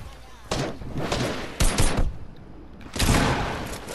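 Bursts of rapid gunfire in Fortnite, three loud volleys separated by short gaps, sounding close and harsh.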